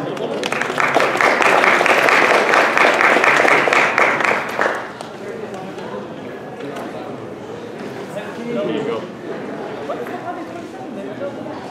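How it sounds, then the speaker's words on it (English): A crowd at Riverside City College claps for several seconds, loud and dense, then the applause fades into quiet room murmur with a voice speaking. "Can I have a round of applause, please?"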